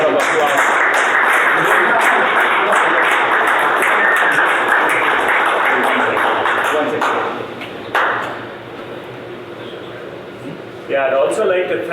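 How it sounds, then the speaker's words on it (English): Applause from the crowd at the 2022 United States National Snooker Championship final, loud dense clapping that carries for several seconds, then dips and swells again, with a speaking voice over it. "A big round of applause."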